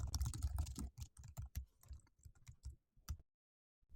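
Typing on a computer keyboard while entering text into a web page editor, a close run of quick irregular key clicks that thins out and stops near the end, with no talking.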